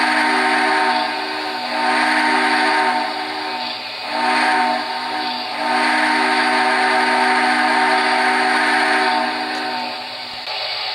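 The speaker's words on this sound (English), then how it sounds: "And here's railroad crossing." MTH C&FW RR #8 "Hooterville Cannonball" model locomotive sounding its railroad crossing whistle pattern: steady steam-whistle blasts in long-long-short-long rhythm, loud and close, with no talking.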